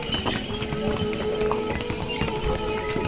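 Many horses and mules on the steep Kedarnath pilgrimage trail clip-clop steadily and close by, their hooves tapping in a busy rhythm beneath crowd murmur and faint voices.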